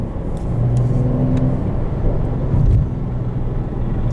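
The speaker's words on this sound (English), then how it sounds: "This one does have active rev matching on downshifts." A 2020 Porsche 911 (992) Carrera 4S with a manual gearbox and active rev matching on downshifts drones steadily from the cabin, its engine note rising briefly in a short blip partway through before settling back.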